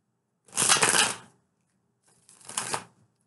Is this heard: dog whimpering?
no